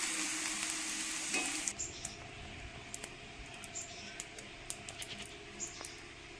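Syringe pitha frying in hot oil, a dense sizzle for the first couple of seconds that drops to a quieter bubbling crackle with sharp, irregular pops and spatters, close up and with no voices.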